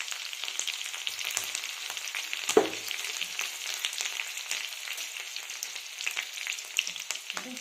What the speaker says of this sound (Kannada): ಈರುಳ್ಳಿಯನ್ನು ಹಾಕ್ತಾ ಇದ್ದೀನಿ.